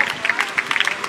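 Crowd clapping and cheering at the finish line of the 2016 Toulouse half marathon as runners arrive, a dense, steady patter close by with an announcer talking over it.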